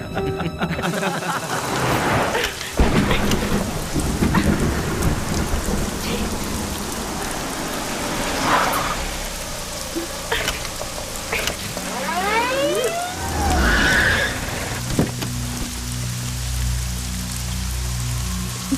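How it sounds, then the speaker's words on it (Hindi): Heavy rain pours steadily on a surface during a storm, a dense continuous roar that stays loud throughout, with a voice speaking briefly partway through. "बरसात है ना"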